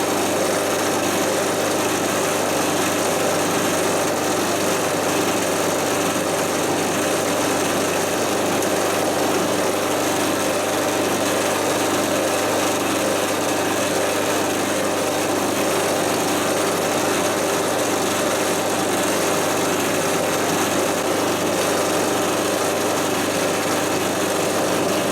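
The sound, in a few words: small drill drilling hole in motorcycle tank bolt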